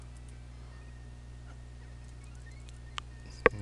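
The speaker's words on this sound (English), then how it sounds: "Stay back, bird." A bird enemy in a Mega Man video game lets out a couple of short, sharp electronic chirps near the end, the second louder, over a steady low game hum.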